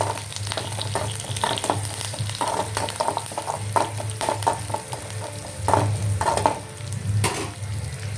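Onions, dried red chillies and curry leaves fry in a pan for brinjal pachadi, giving a steady hot sizzle. A spoon stirs and scrapes at irregular moments, with no talking.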